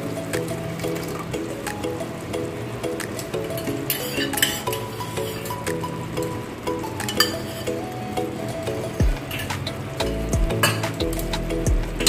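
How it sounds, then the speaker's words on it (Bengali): Yogurt stirred into sizzling mutton curry masala, with a spoon scraping and clinking against the pan over soft frying crackle and a low background hum, no voices. "এবার দইটা দিয়ে দিচ্ছি।"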